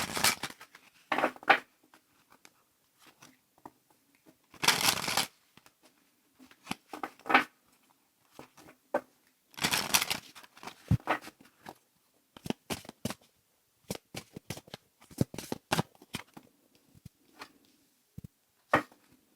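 Tarot cards are shuffled in short, crisp bursts of riffling and slapping, separated by quiet pauses and scattered small clicks and taps, close and fairly soft.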